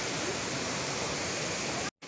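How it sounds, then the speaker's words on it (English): Huangguoshu waterfall in Guizhou, the largest in Asia, roars as a steady, loud broadband rush of falling water that fills the whole moment before cutting out briefly at the end. "This is the largest waterfall in Asia, third largest in the world"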